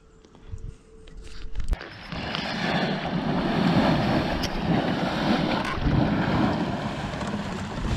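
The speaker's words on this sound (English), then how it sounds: "this is what the hatchery looks like when they're letting the water out over into the lake" Hatchery water pours out into a lake, building into a loud, steady roar after a brief quieter start, with some wind buffeting the microphone.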